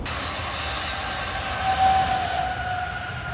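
An Acela train rushes past close by in Mystic, Connecticut, a loud sustained roar with high metallic wheel squeals and whining tones.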